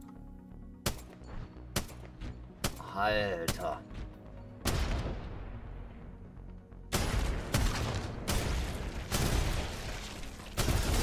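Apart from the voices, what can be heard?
Spitfire gun firing explosive bullets in the video game Apex Legends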